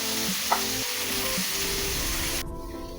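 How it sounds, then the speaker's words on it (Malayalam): Onions and tomatoes sauté in a pan for a prawn roast, a steady sizzle with brief stirring scrapes, then the frying quiets abruptly near the end. "നമുക്കിത് നന്നായിട്ടൊന്ന് വഴറ്റി എടുക്കാം"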